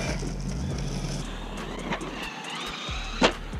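A Traxxas Hoss RC monster truck slams down hard after a big jump, a sharp close impact thump near the end following a stretch of whining motor and outdoor rumble.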